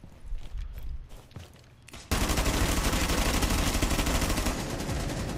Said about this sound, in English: Oh, and he shot me